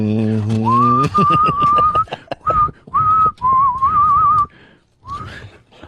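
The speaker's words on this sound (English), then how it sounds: "He could whistle a tune." A person whistles a short tune in clear sustained notes, broken into phrases with brief gaps, close and loud, after a brief hum-like voice at the start.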